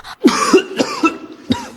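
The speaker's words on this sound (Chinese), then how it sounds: "太子咳嗽几声" A prince in a Chinese costume audio drama coughs several times, with four or five sharp, close coughs spaced irregularly across a short stretch and no talk between them.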